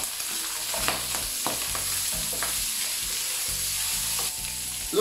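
Pork liver sizzles steadily in a hot pan, a continuous bright frying hiss with low bubbling and occasional stirring, close and even throughout.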